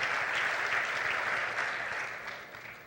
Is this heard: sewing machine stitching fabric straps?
no